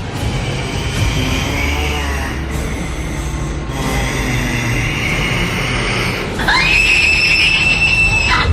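A woman's shrill, sustained scream rising over a loud, dense rumbling background, growing piercing toward the end.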